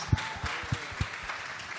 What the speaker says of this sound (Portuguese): Então vamos aplaudir os adolescentes.